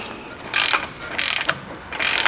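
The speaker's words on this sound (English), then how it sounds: "I'm going to torque the caliper bolt to 21" A torque wrench ratchets as it tightens a front brake caliper bolt on a 100 Series Land Cruiser, three short, close bursts of rapid mechanical clicking separated by brief pauses.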